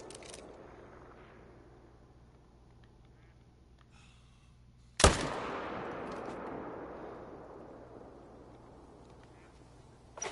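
A single loud hunting rifle shot cracks out while a hunter stalks game on Askiy Ridge in theHunter: Call of the Wild, its long echo decaying over several seconds after a quiet outdoor wait.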